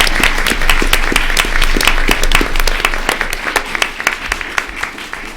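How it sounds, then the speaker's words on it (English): Steady audience applause at a school board meeting honoring food bank award recipients, full and sustained at first, then thinning into separate individual claps as it tapers off. "Can we give them a round of applause?"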